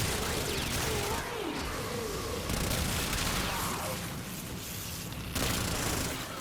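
Rapid pistol fire from Axanis pistols in Warframe, dense bursts of shots and impact booms with game effects layered throughout, steady and loud over ambient action.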